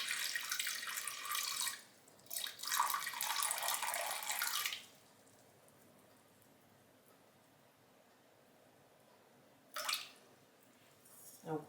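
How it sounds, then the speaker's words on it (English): Lukewarm water pours into a bowl for sourdough bread dough in a home kitchen, in two bursts of close splashing in the first five seconds, followed by a quiet stretch and a brief final pour. "I'm gonna start with 325 grams of lukewarm water."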